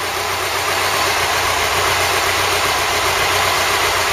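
Ford Cortina Mk3 engine idling during a restoration, a continuous close, loud hum with a steady broadband hiss and no talking.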